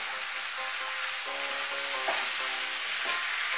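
Vegetables and spices for Bengali kumror chakka sautéing in a pan, a continuous close sizzle with a couple of soft stirring scrapes, while faint background music plays and no one speaks.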